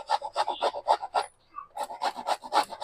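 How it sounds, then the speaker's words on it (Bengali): An onion is grated by hand for aloo dum, a quick run of close, rhythmic rasping strokes with a brief pause midway before the scraping resumes. "পেঁয়াজটাও আপনারা চাইলে কুচিয়ে নিতে পারেন, আমি ঘষে নিচ্ছি"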